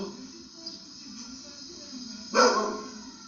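A single sharp dog bark rings out once, fairly close, after quiet room hum with faint talking.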